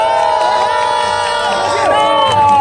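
A crowd cheers and whoops with shrill, sustained voices at a costumed gisaeng selection contest in a Korean folk village, a loud and continuous babble of excited shouting throughout.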